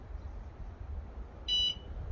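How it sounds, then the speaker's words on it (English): A motorcycle alarm arms from a remote with a single short, shrill electronic beep partway through, standing out over quiet background hiss. "That's set, it'll beep."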